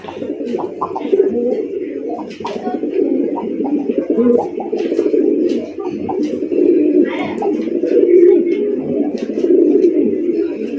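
Many pigeons coo steadily and close together at a pigeon sale, a dense low burbling chorus. Faint crowd murmur and a few higher chirps sit underneath.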